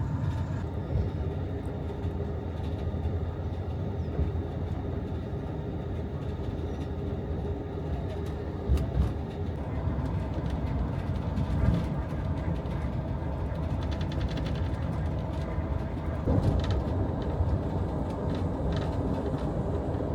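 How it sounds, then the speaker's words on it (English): Interior rumble of the Amtrak Texas Eagle, Train 21, riding through Texas near Cleburne: a steady, loud low drone of wheels and car noise with faint clanks and rattles throughout, no clear talk. "welcome aboard Amtrak Train 21"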